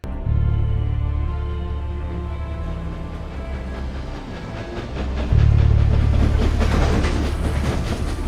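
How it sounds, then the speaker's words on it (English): In a film scene from The Assassination of Jesse James (2007), a train rumbles heavily as it moves toward the camera, with a rhythmic clickety-clack. The loud, steady sound swells sharply near the end, with no talking. "is the train just going to hit the camera?"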